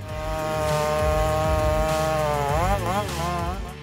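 A big chainsaw cuts into a giant tree during a felling job, its engine droning steadily and loud throughout, then bogging and wavering in pitch as the chain works through the wood.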